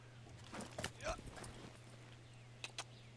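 Horse hooves clip-clopping in the video game Far Cry 6, a few faint scattered hoof clops over a steady low hum, with a voice speaking briefly.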